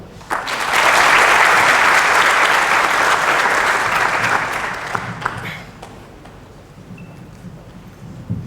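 Audience at a staff presentation event applauding a speaker, loud dense clapping that swells quickly, holds for several seconds, then thins to a few scattered claps and quiet room noise.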